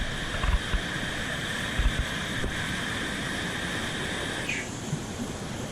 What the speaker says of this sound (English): This must be the top of the falls.